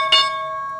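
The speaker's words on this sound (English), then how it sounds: "so you heard that bell. We just opened up, so we are live today" A single struck bell marks the stock market opening, a sharp strike that leaves a long, steady ringing tone fading slowly, with no talk over it.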